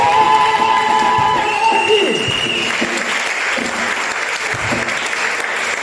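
A church congregation applauding during a Sunday service, sustained loud clapping from a crowd that holds throughout, with a voice speaking over it at the start.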